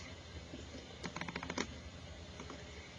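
A quick run of soft clicky key presses on a graphing calculator while an equation is entered, heard close and faint over low background hiss.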